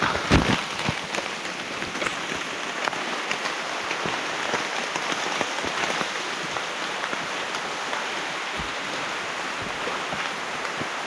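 Steady, heavy rain pours down on the Sangagalathenna route up Sri Pada, a dense, unbroken hiss that stays close and loud for the whole stretch, with no voices.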